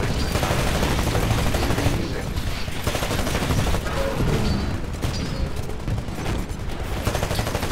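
Dense, continuous gunfire and rattling bursts from the Titanfall video game fill the whole stretch, loud and busy with no pauses.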